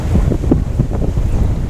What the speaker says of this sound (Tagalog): Lakas ng hangin mga papsi.